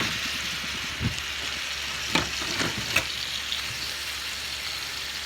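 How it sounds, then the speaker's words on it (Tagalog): Pork liempo poured into hot cooking oil for adobo, giving a steady close frying sizzle with a few brief splashy bursts and clatters as the meat lands. "Bubuhos ko na yung baboy."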